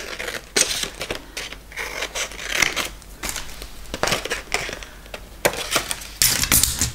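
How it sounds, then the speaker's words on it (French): Scissors roughly cutting paper up close, a string of crisp, crunchy snips and rustles in an uneven rhythm with short gaps, no talking. "Donc, je vais couper grossièrement."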